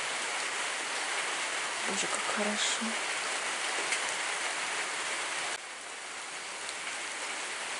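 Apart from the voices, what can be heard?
rain falling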